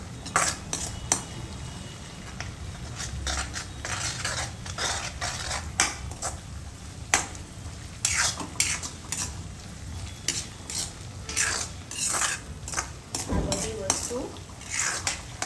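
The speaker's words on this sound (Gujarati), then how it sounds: "લીલી ડુંગળી નાખી દેવાની. અને આને પછી શેકાવા દેવાનું" Spring onions roast in a pan for a veg gravy Manchurian while a metal spoon scrapes and clinks against it in quick, irregular strokes over a faint sizzle, close and clear.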